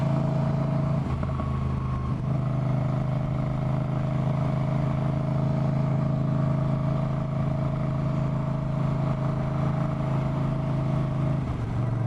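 A Moto Guzzi V9 Bobber motorcycle engine drones steadily while riding, a loud, constant low rumble with stable harmonic tones and brief shifts in pitch near the start and end.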